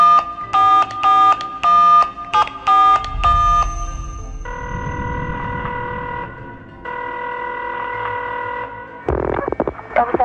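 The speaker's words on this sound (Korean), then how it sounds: "그런데 그날 저녁 형오를 데리고 있다며 현금을 요구하는 협박 전화가 걸려옵니다." A telephone at an apartment in Apgujeong, Seoul, in 1991 sounds in bursts of electronic tones, followed by two long ringing tones, then a sharp clatter.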